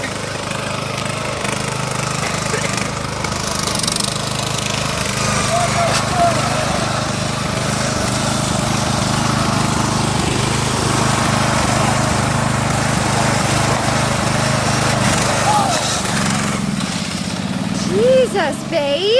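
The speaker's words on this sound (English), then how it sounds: "He just popped a wheelie on the lawn tractor." A lawn tractor with a swapped pulley drives across a lawn, its small engine droning loud and close with shifting revs as it speeds around, while people talk over it.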